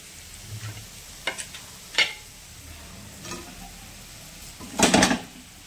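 Tomatoes dropped into a hot pan and frying, with a low sizzle under several sharp clinks and scrapes of a utensil against the pan, close by and intermittent.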